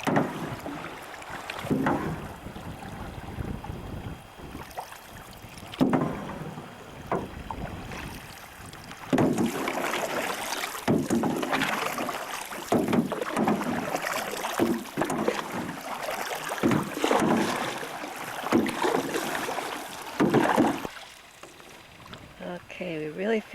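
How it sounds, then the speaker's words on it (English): Paddles dip and splash as a small boat glides across open water, with wind buffeting the microphone and people talking over the steady, close water noise. "we really feel like we're moving along and we're hardly paddling"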